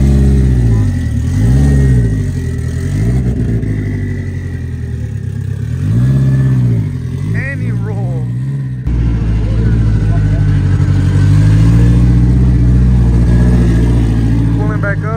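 A car engine revs up and down repeatedly, then holds a loud, strained pull, nearby, with people talking over it.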